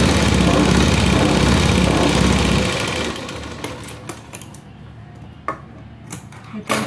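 A sewing machine runs a seam along the top edge of a princess-cut blouse, a loud steady whir for a few seconds that stops abruptly, followed by faint scattered clicks and handling.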